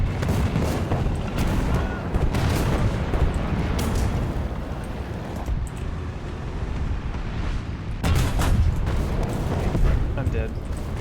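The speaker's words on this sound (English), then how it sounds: "there's like a firefight happening" Gunfire and heavy explosive booms from a firefight in the tank combat game War Thunder, a dense, continuous loud barrage with bursts of sharp reports throughout.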